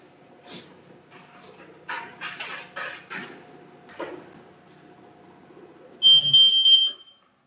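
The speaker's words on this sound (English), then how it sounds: "she's setting the timer" A kitchen timer sounds a short run of bright, close electronic beeps near the end, in a kitchen where craft noodles are being made. Scattered faint clicks and handling noises come before it.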